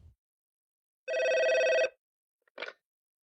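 Office telephone ringing once on a call: a single long electronic ring tone, clear and close, then a short click-like blip as the line connects, with silence around it.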